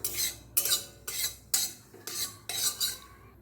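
Half a spoon of cumin seeds in a wok, with rhythmic metal scraping strokes about every half second over a faint sizzle, close and fairly loud, no voices.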